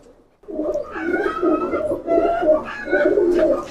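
Teddy pigeons coo close by in a soft, throaty, rolling run of repeated calls that continues steadily for a few seconds with no talking.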